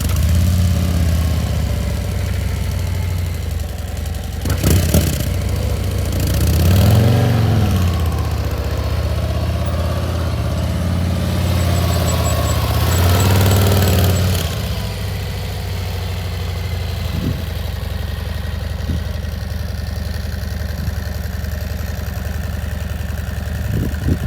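A motorcycle's steady low engine idle rumbles throughout, swelling briefly mid-way with a few revs before settling back to an even idle.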